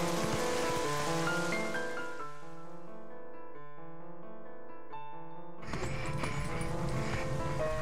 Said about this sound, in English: This rain just makes everything worse.